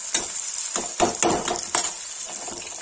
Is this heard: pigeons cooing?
no